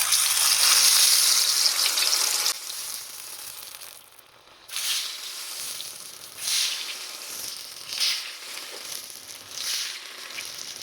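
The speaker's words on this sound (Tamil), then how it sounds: "இந்த பேஸ்ட்டில் வந்து இந்த நக்கெட்டை வந்து டிப் பண்ணி எடுத்துகிட்டு அப்படியே வந்து எண்ணெயில் போடுறேன்" Batter-dipped chicken nuggets go into hot oil with a loud, bright hiss of frying that fades after a few seconds into softer, bubbling sizzle with occasional swells.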